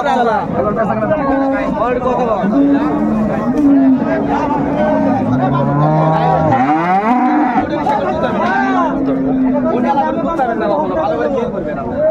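Cattle, including dairy cows and a calf, lowing repeatedly at a busy livestock market in Raniganj, Dinajpur, several loud nearby moos over constant crowd chatter and talking voices.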